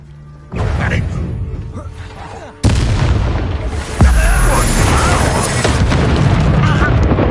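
Incendio fire spell cast in the video game Hogwarts Legacy: loud booming blasts that jump in at two points, each followed by a sustained, dense roar of fiery game effects.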